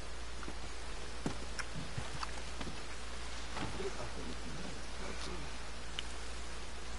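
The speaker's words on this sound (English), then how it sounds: "It's raining, man." Steady, dense rainfall in the video game Red Dead Redemption Online patters on a surface with a low constant hum beneath and occasional sharper drops and soft clicks.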